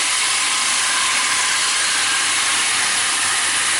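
White wine is poured into a hot pan holding a browned pork loin, giving a loud, steady, broad sizzling hiss throughout.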